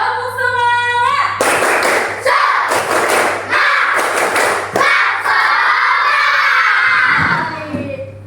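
A classroom of Indonesian schoolchildren performing a rhythmic spirit clap (tepuk semangat) during a lesson: loud, close bursts of synchronized claps and thumps in a patterned beat, mixed with children shouting along.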